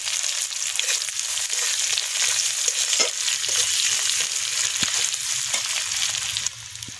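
Sliced onion hits hot oil tempered with white cumin and bay leaf, producing a loud, continuous close-up sizzle broken by occasional sharp crackles and spoon taps, with no talking.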